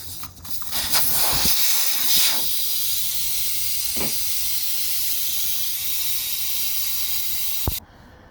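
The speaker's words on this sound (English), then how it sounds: "we're going to get one of these tools to relieve the air" A steady, loud hiss of air rushing out of a tire valve continuously for several seconds, then cutting off abruptly.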